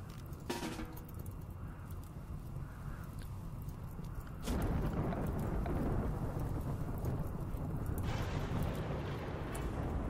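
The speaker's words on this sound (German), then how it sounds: "dieses blöde trockene Gewitter" Dry thunderstorm in the video game RimWorld, a low, steady rumble of rolling thunder that swells louder midway and holds, with crackling texture on top and no speech.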